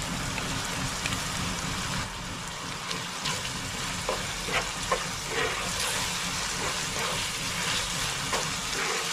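Meat and chopped onions frying together in a pan on a gas stove, a dense continuous sizzle like steady rain with occasional small pops and stirring clatters, no voices.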